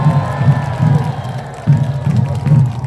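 At a political rally at Dongdaegu Station, a crowd greets a Daegu campaign co-chair with cheering and pulsing, rhythmic clapping or chanting. The sound is loud and close, beating in regular surges.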